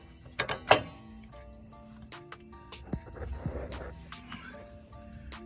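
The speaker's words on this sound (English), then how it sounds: "Pull your bolt out." A bolt is worked out of the front suspension of a 2003 Chevrolet Suburban during shock absorber and upper control arm replacement, giving a cluster of sharp metallic clinks followed by softer scraping and clicking.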